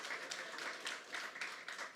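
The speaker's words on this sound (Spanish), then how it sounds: "Yo quiero que le demos un aplauso al Señor por esta palabra." A church congregation applauds during a Sunday morning service, producing a soft, steady patter of many hands clapping that sounds somewhat distant and muffled.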